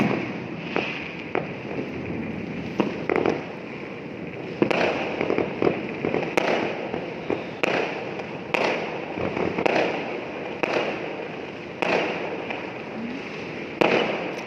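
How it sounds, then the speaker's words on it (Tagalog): Fireworks burst again and again at irregular intervals, a dozen or so sharp booms with crackling in between, heard from a distance. "Ganda ng mga fireworks"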